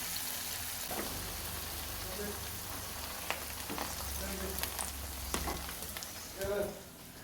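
Biscuit-like dough pieces fry in hot oil with a steady crackling sizzle, a few louder pops and stirring clatters standing out, while faint voices come through in the background.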